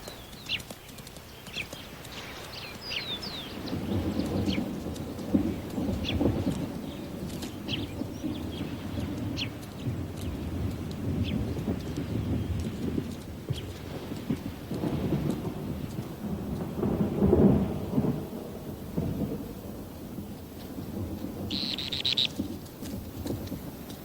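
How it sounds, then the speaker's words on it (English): Low thunder rumbles in the distance before rain over a windy outdoor background on the Patagonian coast, rolling and swelling several times without any speech. "Distant sounds hint at approaching rain, but that's only nature's tease."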